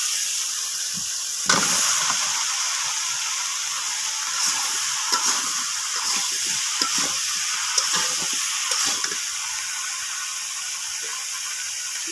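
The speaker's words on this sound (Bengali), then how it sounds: "এবার আমি লাউ দিয়ে দেবো।" Chopped bottle gourd fries in a pan of cooked-down spices, giving a steady, moderate sizzle broken by a sharp clatter as it goes in and by intermittent stirring scrapes, with no voices.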